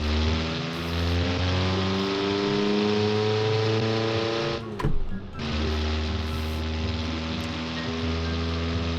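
A loud, throaty diesel engine of an Isuzu D-MAX pickup with a modified exhaust in the game BeamNG, with a rough exhaust drone, briefly interrupted by a short burst of noise before the drone returns.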